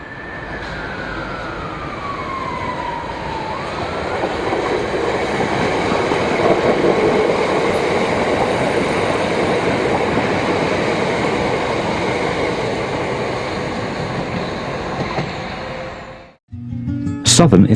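A London Overground DC third-rail electric multiple unit passes close by, a steady rumbling roar with a falling whine early on, building and holding loud before dropping away, then a sharp clatter at the end.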